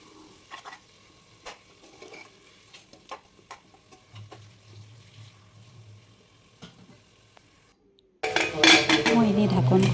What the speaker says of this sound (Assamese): মছলাখিনি আমি আগতে অকণমান ভাজি ল'ব লাগিব।